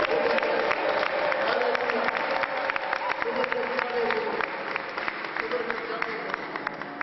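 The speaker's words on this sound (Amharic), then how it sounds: "ሲልታና ጭብጨባ" A crowd at a church gathering claps in sustained applause with high ululating cries. The applause stays dense and steady throughout, and a voice can be heard faintly beneath it.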